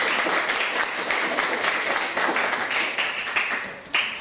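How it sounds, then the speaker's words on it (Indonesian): Classroom of students applauding a classmate who volunteers to come forward, dense steady clapping from many hands that stays loud from start to finish with no talk. "Tepuk tangan dong."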